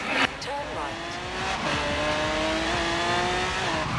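A Lamborghini Aventador LP 750-4 SV in the Forza Horizon racing game, its engine revving and climbing through gears with rising and falling tones, tire squeal and a sharp exhaust crackle near the start.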